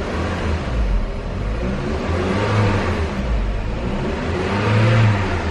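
A 2007 Saab 9-3 engine idles close by and revs up smoothly in a couple of rising swells, a steady mid-pitched hum that climbs and settles, with no voices.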